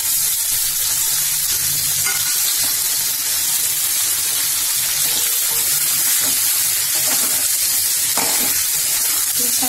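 Stuffed okra (bhindi) with curry leaves frying in oil, a loud, dense sizzle and steamy hiss holding steady throughout, with stirring clatter and a low hum beneath and no voices.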